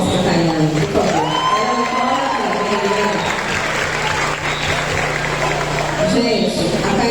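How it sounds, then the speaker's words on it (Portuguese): A crowd at a church women's retreat program applauds and cheers for a woman: loud, continuous clapping with whoops and shouted cheers, including children's voices, sustained and close. "Uma salva de palmas para a Cailane, por favor."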